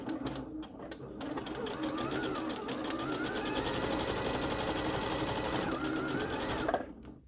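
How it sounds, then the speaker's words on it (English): A sewing machine stitches along fabric Easter bunting in one steady, continuous run, loud and close, with its motor whirring evenly until it stops near the end. "So I've machined all the way along."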